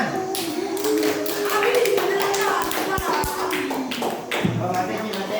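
Schoolchildren in a classroom clapping their hands, a busy scatter of small claps and taps over steady children's voices and room chatter.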